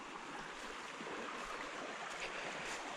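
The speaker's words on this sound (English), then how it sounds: "Beautiful little creek." A small creek in George Washington National Forest flows steadily, a soft continuous wash of water heard alone, faint and even from start to end.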